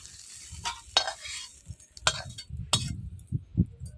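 Snake gourd slices frying in a wok of oil, with close sizzling and spatula strokes scraping and clinking at irregular intervals, and no talk.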